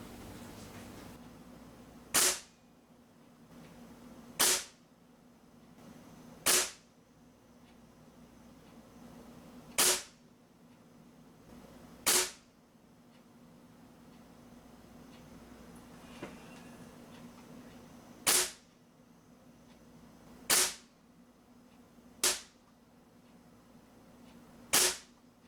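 A Hatsan 125 Sniper .22 spring air rifle fires nine sharp, close shots at a target, each a crisp crack spaced roughly two seconds apart over a quiet background with no talking.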